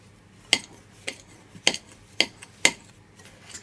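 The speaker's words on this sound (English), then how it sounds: "We're now going to tip this in here and we're going to stir it till it's a smooth paste." Spoon scraping and knocking against a bowl while butter and flour are stirred into a paste for shortbread, five or six sharp clinks at irregular intervals over a quiet background.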